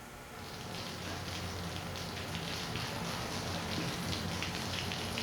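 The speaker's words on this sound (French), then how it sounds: "Oh, la pluie." Steady rain falling, a continuous soft hiss of drops at even level with no voices, on the set of a 1979 French-language children's television show.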